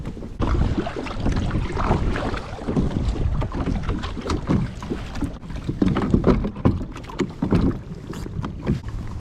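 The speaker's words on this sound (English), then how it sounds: "It is windy this morning." Gusty wind roars across a lake during a morning kayak outing, buffeting the microphone in steady rumbling waves with occasional louder surges and no voices.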